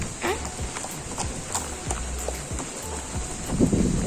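Calm horses walk a downhill trail near Jarabacoa in the Dominican Republic, hooves clip-clopping in an uneven rhythm close by over a steady outdoor background with occasional brief sounds.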